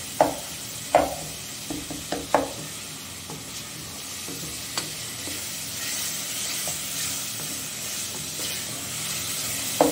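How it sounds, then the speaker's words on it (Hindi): Rice roasts over a high flame in a pan, sizzling steadily while a spoon scrapes and knocks against the pot in irregular clinks, close and fairly loud. "चूल्हा तेज कर लें तेज आंच पे भून लें अच्छी तरह"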